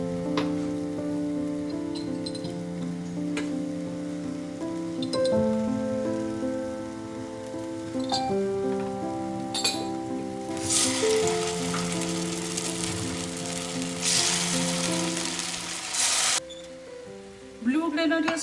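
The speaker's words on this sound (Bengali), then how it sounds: "আর এখানে আমি মাছগুলোকে ভেজে নিচ্ছি" Blue grenadier fish fries in oil in a home kitchen, a continuous crackling sizzle that swells louder midway, under background music and occasional clatter.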